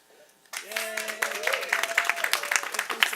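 After a brief quiet start, a round of applause and clapping breaks out from the crowd at an outdoor New York City rally on e-cigarette marketing, with a voice speaking over the clapping.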